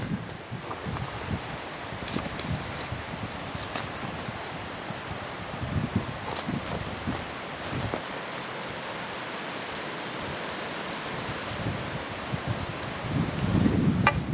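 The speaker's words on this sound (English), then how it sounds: "The wind's picked up quite a bit tonight." Night wind rushes through trees around a campsite in a steady broadband hiss with rustling gusts that swell and fade across the whole stretch, no voices present.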